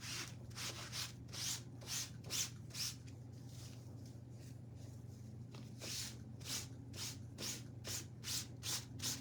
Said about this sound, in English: We're going to get one more pass with the wipe.